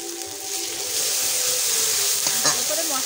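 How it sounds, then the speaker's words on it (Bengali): Cumin, coriander and chili powders fry in a pan for a rohu fish and cauliflower curry, with a steady close sizzle and a few stirring scrapes near the end. "মশলাটা ভালো করে কষিয়ে নিয়েছি"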